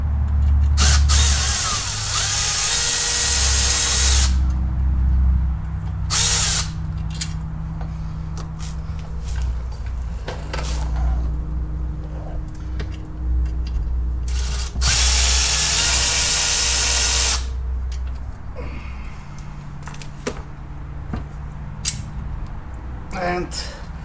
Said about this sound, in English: I'm gonna carefully remove the remaining bolts,